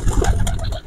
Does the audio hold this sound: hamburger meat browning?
no